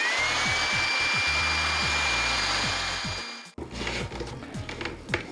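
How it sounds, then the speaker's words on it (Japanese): An electric blower, used to pressurize a car muffler for back-pressure testing, roars loudly with a steady rushing whine, then cuts off abruptly partway through, leaving quieter rustling and handling noise. "ちなみにこのブロワーってこのくらい馬力があります"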